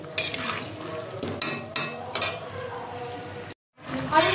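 Chicken stirred in a frying pan for a Bengali coriander chicken dish: steady sizzling frying with repeated scraping strokes of a spoon against the pan, close and fairly loud, with a short break near the end.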